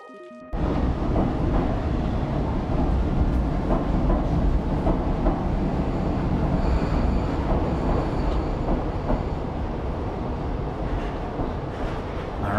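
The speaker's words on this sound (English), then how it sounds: "Who needs to go to space when you can drive a train?" A train in the video game Stray runs with a continuous loud rumble and rattling, a steady dense roar that fills the scene at close range, with no voices over it.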